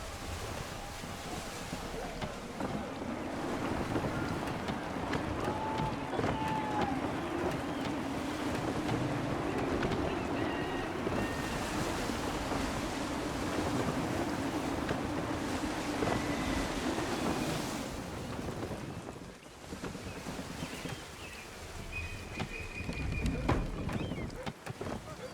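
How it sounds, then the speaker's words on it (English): Steady gusty wind rushes over open sea as a sailing ship moves through the water in Assassin's Creed III, a continuous broad roar with waves, slightly easing near the end. "Gusty winds can be difficult to manage."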